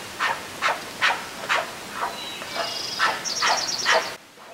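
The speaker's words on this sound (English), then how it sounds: "the sow started making this barking, snorting sound like an alert" A coastal brown bear sow gives a series of sharp alarm barks and huffing snorts at a steady pace, loud and close, with a few higher squeaky calls toward the end.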